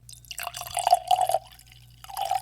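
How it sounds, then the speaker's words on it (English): Highland Park cask strength whisky poured into a glass, a close, gurgling trickle in short bursts with a pause before a final splash. "That is a damn fine looking pour,"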